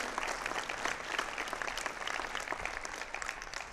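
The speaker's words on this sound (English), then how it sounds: "Can we please give them a round of applause to show our thanks and gratitude?" An audience applauds throughout at a county Democrats Hall of Fame dinner, a dense, steady wash of clapping from a large room that holds at an even level from start to finish.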